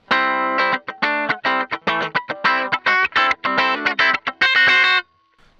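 Clean electric guitar runs through a compressor on a NUX MG30 multi-effects unit with a Super Reverb amp model, giving short, punchy plucked notes and chords in a brisk, even run, close and alone, ending in a brief silence.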